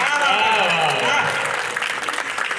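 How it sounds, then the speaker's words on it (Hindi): Audience applause at a Hindi poetry recital in Aligarh, a dense wash of clapping that carries on steadily, mixed with some voice-like tones at the start and loosening toward the end. "डॉक्टर साहब आपने बहुत ज़्यादा तालियां बजाई, अभी तक बजा रहे हो"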